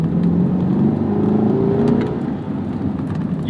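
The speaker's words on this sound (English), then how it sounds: "Instantaneous, naturally aspirated, that's what we like. And a throaty V8." A 2021 Corvette C8 Z51 with a naturally aspirated V8 revs and pulls hard on a road, a loud, throaty, rising engine note with a steady rumble that eases slightly toward the end, heard from inside with no talking.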